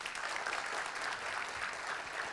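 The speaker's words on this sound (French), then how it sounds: "J'entends plus d'applaudissements" Faint, steady audience applause welcoming a guest onto a French business programme set, continuous and distant with no talk.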